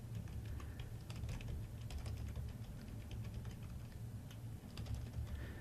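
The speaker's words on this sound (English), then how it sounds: "Now I can just begin typing if I want." Steady typing on a computer keyboard while entering text into OneNote 2013, close and continuous with rapid, irregular key clicks over a low background hum.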